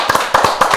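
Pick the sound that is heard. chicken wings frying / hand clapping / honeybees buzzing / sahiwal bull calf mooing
hand clapping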